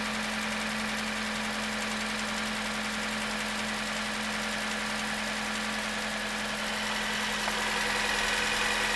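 A Suzuki Swift 125 hp engine idles steadily after its cylinder head and valves were repaired, a constant mid-pitched hum with a strong low tone and light mechanical ticking, running alone without talk.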